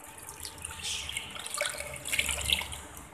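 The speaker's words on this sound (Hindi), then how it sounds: "1 किलो दूध इसमें ऐड किया" Liquid pours steadily for about three seconds as a kilo of milk goes into a pot for sardai, a traditional chilled almond drink, with a soft gurgle close by and no talk.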